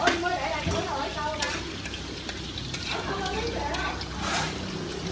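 Banh xeo pancake batter deep-fries in a pan full of oil, giving a steady, moderate sizzle with bubbling and a few scraping stirs as a person talks nearby.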